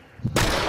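A single sharp pistol shot from dual pistols in the video game Hunt: Showdown, loud and close, with a broad blast tail.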